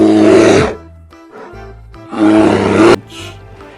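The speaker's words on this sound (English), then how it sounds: "Polar bear." A polar bear gives two loud, throaty roars with a short gap between them, each harsh and rumbling and close up, with quieter grumbling between the bursts.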